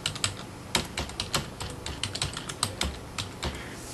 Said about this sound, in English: I type in